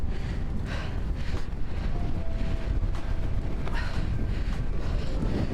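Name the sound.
wind blowing across a field during a road bike ride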